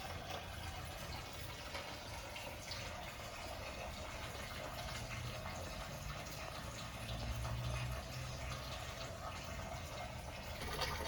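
Water runs at a higher flow rate through a laboratory fluid-flow rig, a faint, continuous rushing and trickling with no pauses.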